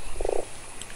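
A toad croaks in the video game Fran Bow, one short rough burst of rapid pulses standing out clearly over a quiet hum, with faint higher blips trailing after it.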